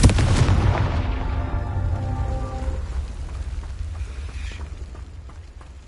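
A Confringo explosive spell from the Hogwarts Legacy video game bursts loudly up close, then a crackling, debris-scattering rumble fades away over several seconds, with no voices.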